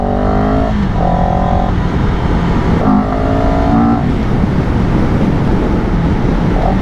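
A CFMOTO 700 CL-X motorcycle engine roars steadily, its exhaust note rising in repeated throttle surges as the bike accelerates up close.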